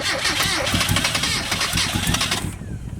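A race car engine run on straight Marvel Mystery Oil as engine oil cranks and catches, a loud rough mid-pitched rumble close by, with background voices, cutting off sharply near the end.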